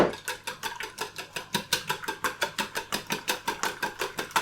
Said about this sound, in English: just quickly whisk those